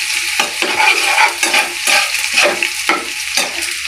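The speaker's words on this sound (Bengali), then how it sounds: "এই যে আমি পেস্টটা দিয়ে দিয়েছি, এবার আস্তে আস্তে অনবরত নাড়াচাড়া করব।" Spice paste being stirred steadily in hot oil in a pan, a close, continuous sizzle broken by repeated scraping strokes of the spoon at a slow, even rhythm.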